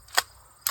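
Two sharp gunshots from an LWRC AR-15 rifle in 5.56 caliber fired at an outdoor Tannerite target, each a short crack with a fast decay.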